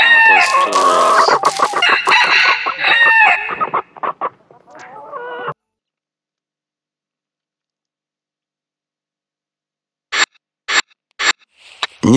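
Rooster crowing and clucking in a Russian adventure game, loud and close for about five seconds, then silence, then a few short sharp bursts near the end.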